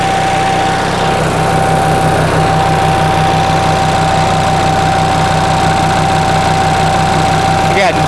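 A 1945 Onan generator engine runs steadily near at hand, a loud, even idle with a rhythmic low chug and a constant whine over it, continuing without a break.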